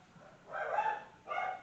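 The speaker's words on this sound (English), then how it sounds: "hopefully you don't hear the dog barking" A dog barks twice nearby, two broad, full woofs separated by a short pause, alone with no talking.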